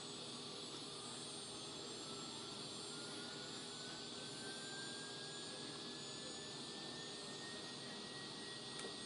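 A steady electrical hum from a transformer with a thin whining tone that slowly climbs in pitch over a broad noisy drone, faint and continuous, no talking.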